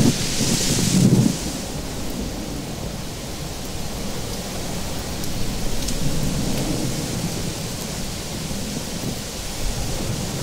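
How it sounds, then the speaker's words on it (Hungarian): Heavy rain lashes down outdoors by a small rushing stream, a dense, loud, steady roar with a deep thunder rumble near the start and wind buffeting the microphone. "Jön az eső."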